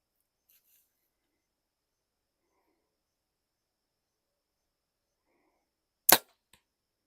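A compound bow looses an arrow in one sharp, loud snap after several seconds of near silence outdoors at night, followed by a faint soft tick.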